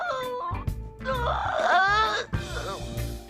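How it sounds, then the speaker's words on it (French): A cartoon girl cries and wails in a brief, close, voiced sob with rising and falling moans and short breaks between outbursts. "Elle pleure, elle est triste"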